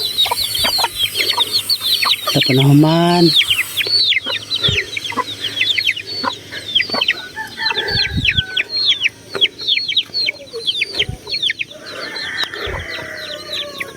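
Chickens cluck and chatter continuously at close range at a mountaintop spot, with a rooster crowing partway through and brief low thumps; a voice speaks briefly.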